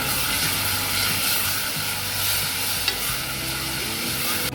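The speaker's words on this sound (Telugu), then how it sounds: "ధనియాల పొడి, వేసుకున్నాం. ఒకసారి కలుపుకున్నాం." Coriander powder being stirred into sambar in a pan: a steady, close sizzle and hiss with soft scraping strokes of the spoon throughout, no voices.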